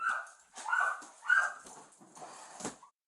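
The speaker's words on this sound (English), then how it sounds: "More dogs. 3 dogs. All malnourished." Malnourished dogs inside a filthy house give a series of close, high yelping barks and whimpers, several short bursts in a row, then a fading whine.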